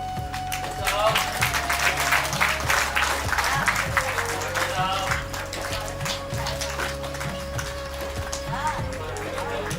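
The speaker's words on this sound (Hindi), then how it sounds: "और ये संस्थापक सदस्यों के लिए जोरदार तालियां" Loud applause for the founding members at a yoga gathering: a dense, continuous crowd clapping that fills the whole stretch, with a steady tone and a voice beneath it.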